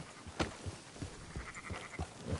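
Several sheep bleat in a video game livestock drive, short wavering cries repeating every half second or so at moderate loudness over a low rumbling background.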